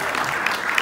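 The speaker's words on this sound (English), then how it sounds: "How about a round of applause for that?" Brief burst of audience applause at a library concert, dense even clapping from a seated crowd with no voices over it.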